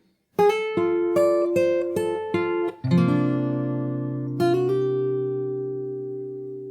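A short fingerstyle guitar melody from the Animal Crossing New Horizons theme, a run of evenly plucked single notes ending in a slide into a ringing, sustained chord, close-miked and alone.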